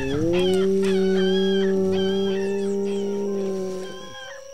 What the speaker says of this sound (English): the usual evening chorus is joined by the whimper of a dying giant